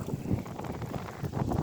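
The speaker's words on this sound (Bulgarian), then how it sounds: "Има силен вятър тук." Steady buffeting wind rumble on the microphone, low and continuous with gusty swells, no clear voices.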